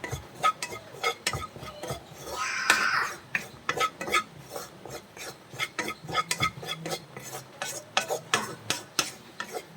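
Spice powders dry-roasting in a pan with no oil while being stirred: a quick run of close scraping and clinking taps from the utensil against the pan, irregular and fairly soft, with a brief faint sizzle and no talking.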